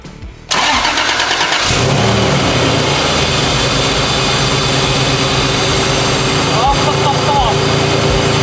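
Supercharged 3.4 V6 swapped into a 1980 Toyota pickup cranks briefly, then fires and settles into a loud, steady run with blower whine, close up.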